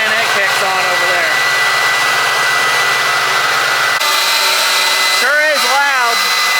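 Vacuum fans on a John Deere planter run with a loud, steady whining roar, joined partway through by a second fan kicking on with rising and falling pitch; a voice speaks briefly near the start.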